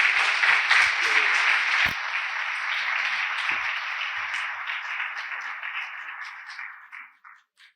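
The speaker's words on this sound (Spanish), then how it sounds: "los recibimos con un fuerte aplauso" A lecture audience at a charity course gives a speaker a warm welcome, with a crowd clapping steadily that gradually fades out, ending in a few last scattered claps.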